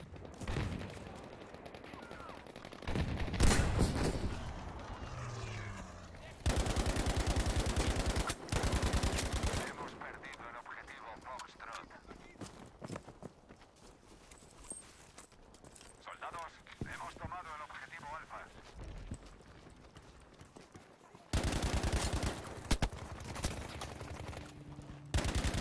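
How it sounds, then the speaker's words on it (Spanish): Machine gun fire in Battlefield V, loud bursts of rapid automatic shots recurring across the scene, with people talking over and between the volleys. "¡Ametralladora!"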